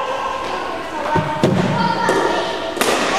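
Cricket bat striking a ball during batting practice, with a few dull thuds spread through a noisy outdoor background of voices and rustle.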